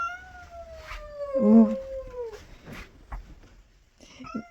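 A cat guarding the home yowls and caterwauls with a long, rising and falling wail to drive off another tomcat, loud and close, with a brief word spoken.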